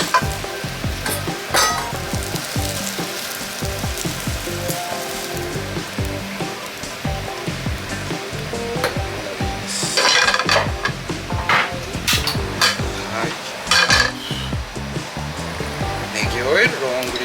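Scrambled eggs for Thai rice noodles fry in a pan, close up, with a constant hiss of sizzling under repeated scraping and stirring strokes of a utensil.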